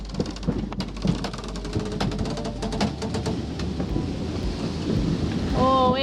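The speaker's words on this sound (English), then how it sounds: "Got a bit of rain right here, and a bit of wind" Rain and gusting wind at sea aboard a sailboat, a steady loud wash of rainfall with broad wind noise and occasional thumps, continuous throughout with a whistling tone near the end.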